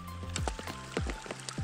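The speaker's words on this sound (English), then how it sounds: "Gotta love that hail." Hailstones strike in a storm at a trout-fishing spot, a rapid irregular patter of sharp close ticks and thumps, steady and moderately loud with no talking.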